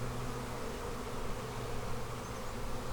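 Honey bees buzz in a dense, continuous drone during a beehive frame inspection in a bee barn, close and steady for the whole stretch with no talking.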